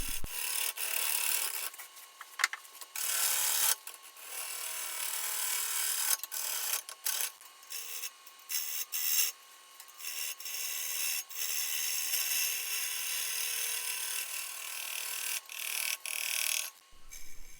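A turning tool cuts into a flame box elder blank spinning on a wood lathe, a close, steady rasping scrape in long passes broken by brief pauses, with no voices over it.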